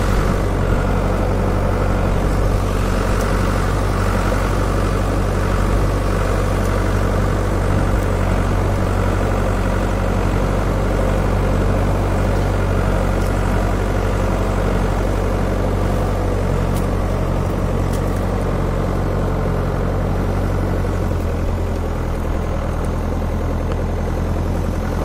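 A tractor engine runs steadily during a ride over hilly rural ground in Lindóia do Sul, Santa Catarina, a constant close low drone without pauses or voices.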